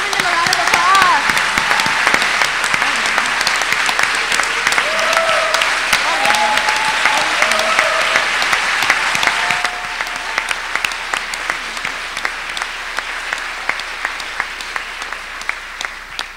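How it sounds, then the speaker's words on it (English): Audience applause for student volunteers at a rally against police violence, a dense sustained round of clapping that carries on for the whole stretch, easing slightly in level partway through, with scattered voices and cheers mixed in. "Please join me in giving them a round of applause"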